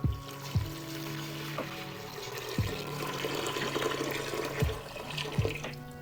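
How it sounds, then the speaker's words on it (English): Seven cups of water are dumped into a cooking pot for Mexican meatball soup. The pour is a steady rushing splash, with a few sharp knocks of the pot or container along the way, close and fairly loud. "I got 7 cups of water. We're gonna go ahead and dump that in there before we start burning our stuff."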